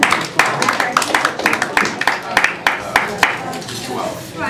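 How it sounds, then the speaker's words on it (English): Applause from an audience welcoming a performer on stage, a burst of close hand clapping with sharp irregular claps that thins out toward the end, with a voice over it. "Big round of applause for Bill Tong."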